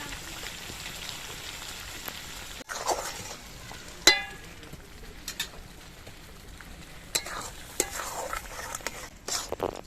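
Grated coconut paste with sugar stir-fried in a wok for a prawn dish, a soft crackling sizzle under intermittent scrapes and clinks of a spatula against the pan.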